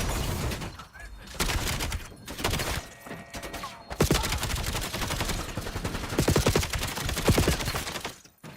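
Gunfire from shooting enemies in a video game, with bursts of rapid shots around the middle and end, mixed under someone talking over the game audio.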